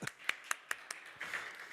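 Applause from a conference audience at a renewables summit as a guest CEO is welcomed on stage, starting as a few distinct claps and building into a denser, steady patter of clapping hands.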